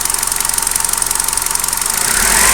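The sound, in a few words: Hyundai i20 petrol engine idling with vibration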